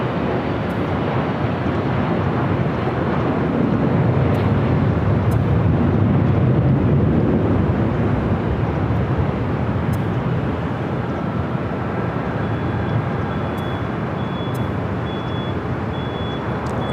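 A Frontier A320 in Sammy the Squirrel livery, arriving from Phoenix, lands at LAX airport with a steady, loud, broad jet roar that stays nearly constant throughout.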